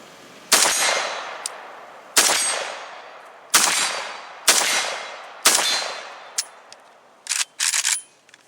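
A Draco AK pistol fitted with a Strike Industries Widow flash suppressor fires at an outdoor range: five loud, sharp single shots spaced a second or so apart, each with a ringing decay, then a quick close pair of shots at the end.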